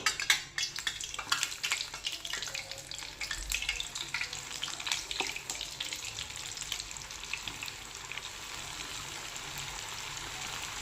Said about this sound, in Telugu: ఇప్పుడు మనం రెడీ చేసి పెట్టుకున్న ఈ చికెన్ లెగ్ పీసెస్ని ఒక్కొక్కటిగా వేసుకుందాము